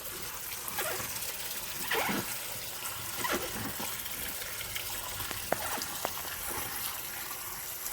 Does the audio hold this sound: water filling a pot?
yes